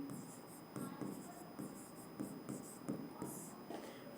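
Close scratching of a pen or pencil on paper as an answer is handwritten, in short, irregular strokes over a faint steady hiss, with a voice faintly speaking in the background.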